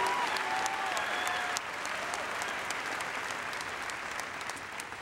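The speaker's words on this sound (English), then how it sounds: "How about a warm round of applause?" Steady, distant audience applause fills a high school graduation ceremony, a dense wash of many hands clapping that holds evenly throughout with a faint tonal ringing sound mixed in.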